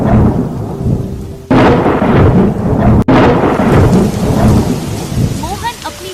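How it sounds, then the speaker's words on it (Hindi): Heavy rain pours steadily while thunder rumbles and cracks loudly, with sharp breaks in the downpour and a faint rising tone near the end. "ये क्या बिन मौसम बारिश!"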